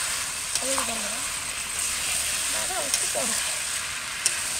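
Mutton sautéed with papaya in a pot, giving a steady frying sizzle and hiss throughout with occasional stirring clinks; brief faint voices in the background.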